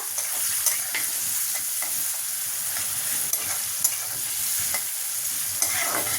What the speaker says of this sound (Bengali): প্রথমে আমি মাশরুমটা তেল গরম হয়ে গেলে মাশরুমটাকে তেলে দিয়ে একটু ভেজে নেব